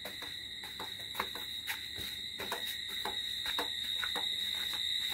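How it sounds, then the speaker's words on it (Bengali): Crickets trill in a continuous high-pitched chorus around a home in the dark of night, with scattered faint clicks and footsteps nearby. "চারিদিকে ঝিঝি পোকার ডাক।"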